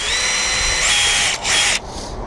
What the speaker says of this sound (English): we're going to make sure that we get a screw in there so that the cap doesn't blow off on us again.